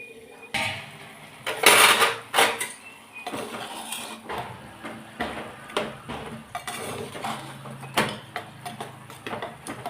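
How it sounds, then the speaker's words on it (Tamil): A metal lid is set back onto a cooking pot of salted mango kulambu, with scattered clinks and clanks of metal on metal. Sharp knocks and softer rattles of cookware come close by over about ten seconds. "மறுபடியும் மூடி வைப்போம். மூடி வச்சு வேக வைக்கலாம்."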